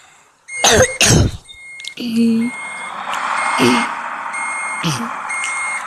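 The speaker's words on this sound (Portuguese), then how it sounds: "Dando ré aqui pra engatar na carga" Reversing beeps from a truck backing up to hitch cargo in a truck-driving game, a steady series of electronic tones under engine hum, interrupted by loud coughs and throat clearing near the mic.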